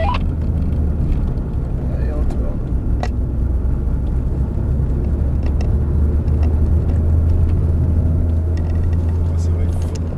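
A Ford Focus RS engine drones loud and steady as the car is driven hard on a track, with a low, constant rumble; someone talks over it.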